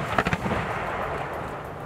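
Artillery guns fire shells during a US military drill with Poland: a couple of sharp booming blasts in quick succession open the clip, then a rumbling tail fades out.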